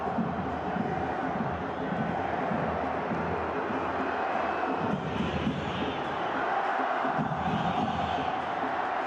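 Stadium crowd noise at a Pachuca home football match at Estadio Hidalgo, a steady dense roar of many voices with rising swells of cheering, continuous and fairly distant throughout.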